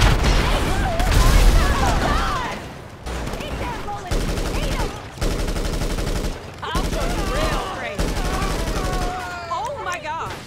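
Rapid automatic gunfire shooting at waves of bikers in the Drug Wars DLC, sustained bursts of shots broken by brief pauses, loud and close, with game effects mixed in.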